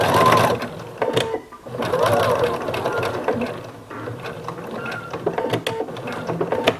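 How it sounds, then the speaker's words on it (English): A sewing machine stitches across the corner of a fabric napkin, its needle whirring and clattering close up in uneven runs with brief pauses, fairly loud throughout. "stitch across and grab the corner on the other side"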